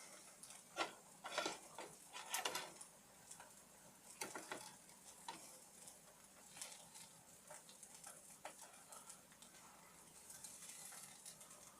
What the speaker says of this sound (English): I know it's a little boring watching eggs fry